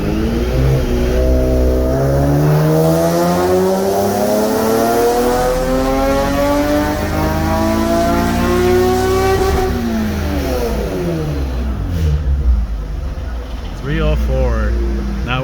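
A twin-turbo Nissan 370Z with a Fast Intentions kit revs hard through a wide-open pull on a dyno, the loud engine note climbing steadily for several seconds before dropping back, then winding down with brief blips and someone speaking.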